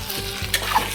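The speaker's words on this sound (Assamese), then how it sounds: "মই এতিয়া আলুখিনি মিক্স কৰি দিছোঁ" Boiled potatoes stirred into frying spices in a pan for egg and potato dum, giving a brief burst of close sizzle with a quick utensil scrape.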